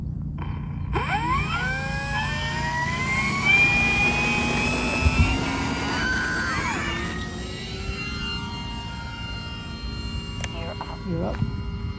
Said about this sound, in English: P-47 taking off.